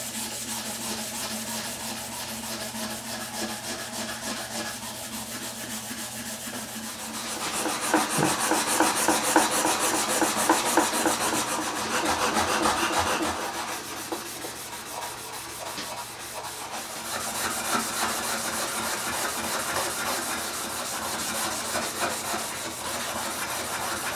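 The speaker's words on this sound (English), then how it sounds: "I'm just going to start with these Scotch-Brite pads" Vintage shop shears being scrubbed with red Scotch-Brite pads, a continuous close abrasive rubbing that swells louder in the middle stretch, then settles back to a steady scraping scour.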